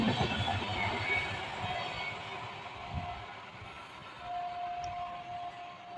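The Purbanchal Express with LHB coaches rolls past, a horn sounding over a broad, steady rush of wheels and coaches that fades slightly toward the end.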